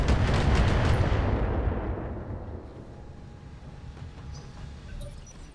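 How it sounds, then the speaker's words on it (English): A heavy Atlas mech launches a salvo of LRM-20 long-range missiles in the Battletech video game: one loud, dense roaring burst that swells at once and slowly fades into a rumbling tail, with no voices. "that's the Atlas firing an LRM-20"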